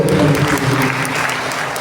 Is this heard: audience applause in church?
yes